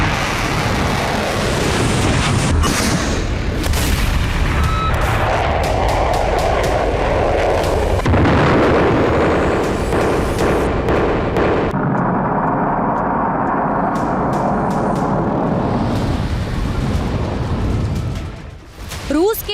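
Explosions and artillery fire from Russian attacks in Ukraine form a loud, continuous roar of rumbling blasts, with sharp impacts breaking through a heavy low-end wash before the sound tapers near the end.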